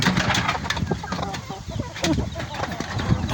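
Chickens of a native breed crossed with Texas stock cluck and squawk nearby in a busy, uneven chorus, with scattered bursts of fluttering and farmyard noise throughout.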